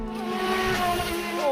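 A small brushed motor on a Wltoys WL912-A RC speed boat whines and buzzes at rising pitch as the boat speeds across the water.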